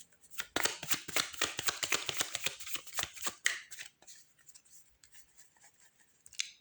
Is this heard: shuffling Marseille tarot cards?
yes